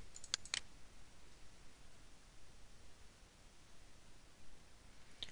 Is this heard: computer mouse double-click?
yes